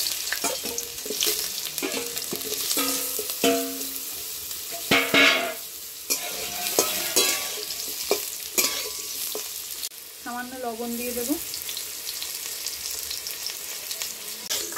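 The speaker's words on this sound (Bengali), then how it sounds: "করে রাখা আলুটা একটু ভেজে নেবে।" Potatoes fry in hot mustard oil in a wok, giving a continuous close sizzle broken by the scrape and clatter of stirring. A person speaks briefly.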